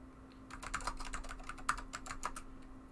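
Rapid, uneven clicking of keys typed on a Macintosh keyboard during a Unix A/UX session, close and fairly quiet over a steady low hum, with no voices.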